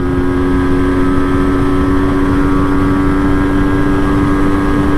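A 1984 MZ TS125 motorcycle engine accelerates at 6,000 revs in fourth gear, holding a loud, steady high-revving drone, constant and close throughout with no pauses.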